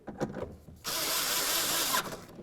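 A 10 mm tool tightening the mounting bolt of a front door lock actuator on a 2000-2005 Buick LeSabre, a steady whirring buzz of about a second after a few light taps.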